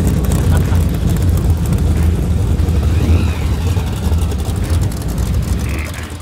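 A rebuilt truck engine idles loudly at an outdoor car show, its steady low rumble running throughout while voices chatter nearby.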